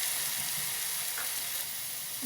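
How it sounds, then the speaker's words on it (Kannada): Green chillies fry in a hot pan, giving an even, close sizzle with a faint stir or two and no voices. "1-2 ಹಸಿಮೆಣಸಿನ್ಕಾಯಿನ ಈ ಥರ ಹಾಗೆ ಹಾಕಬೇಕು ಇದಕ್ಕೆ."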